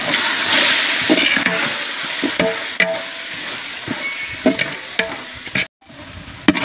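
Masala with mint, turmeric and chili powder sizzles and fries in a pan for fish biryani, a loud continuous hiss broken by scraping stirs, then a brief silence and a clatter near the end.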